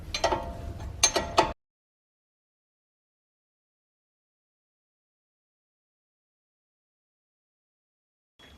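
A ratchet clicks in a quick burst as 21mm bolts are tightened on the front brake caliper bracket of a 2009-2020 Dodge Journey, followed by long silence.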